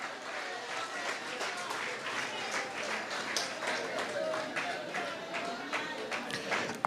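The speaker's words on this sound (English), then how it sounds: "Give them a round of applause." Audience at a political rally applauding, a dense sustained round of clapping from a crowd, moderately near and steady for several seconds with some voices mixed in.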